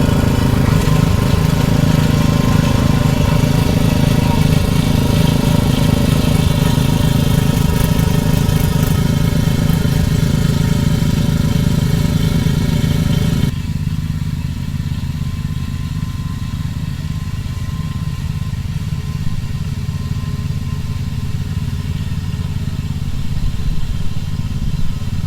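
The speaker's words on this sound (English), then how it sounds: "I'm raising up the back wheels so all the weight is on the tines of the tiller right here" A rear-tine tiller's engine roars loud and steady, running near and continuous as the tines dig into garden soil, with a slightly lighter, rougher engine tone partway through.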